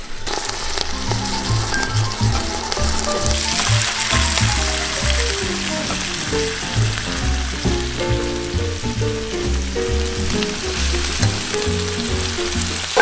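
Onions frying in a pan hiss loudly and steadily, close by, while a utensil stirs them with repeated scraping strokes throughout, with no voices.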